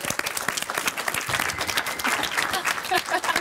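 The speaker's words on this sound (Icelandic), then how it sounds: "Allir að klappa." A live charity-night audience claps vigorously, a close, busy burst of many hands with some crowd noise and a voice mixed in.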